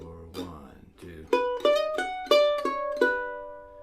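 A mandolin plays a short lick in measure 6 that slides into the third, sounding as a quick run of bright plucked notes with clear attacks and ringing decay, close and alone, preceded by a brief softer figure.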